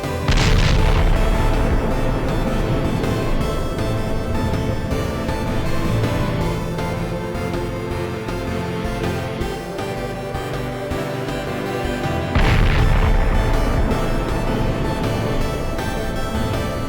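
Heavy weapon explosions in an indie space video game, two loud booming blasts several seconds apart, each followed by a long roaring rumble that sustains between them.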